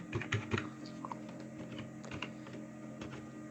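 Computer keyboard typing during password entry in a software installer, a quick cluster of near keystrokes early on then sparser, softer taps over a steady low background hum.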